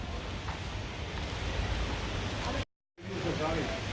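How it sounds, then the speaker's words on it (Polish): Steady, dense hiss of rain pours down continuously at night in Rimini, Italy, briefly cutting out before resuming, with faint background activity underneath. "Ale deszcz ciągle pada."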